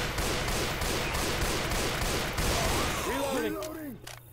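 Rapid gunfire from Left 4 Dead 2 zombie co-op play in the barns, a dense continuous burst of shots for several seconds before fading, followed by a brief voice.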